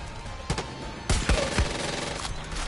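Gunfire in Far Cry 5: several sharp, loud shots in quick succession with a short pause between bursts, over a steady game background.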